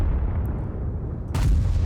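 A tier 10 heavy tank's main gun fires in World of Tanks, a single deep, heavy boom that bursts out near the end after a low rumbling lead-in, loud and close with no talk.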